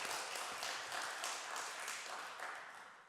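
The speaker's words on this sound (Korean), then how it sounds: "자, 박수 고맙습니다" Applause from a church congregation during an afternoon service, a steady broadband wash of many hands clapping that holds for about three seconds and slowly fades, with no talk over it.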